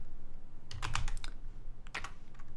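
Keyboard keys tapped on a computer in two short bursts of quick clicks, close and fairly quiet, with a pause between them.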